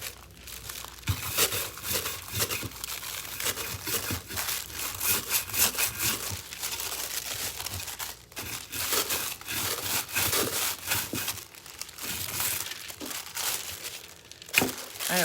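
Jaguar-print foil crinkles and crackles continuously as it is pressed and rubbed onto a thermal cup by hand, close and fairly steady with brief louder crunches, no talking.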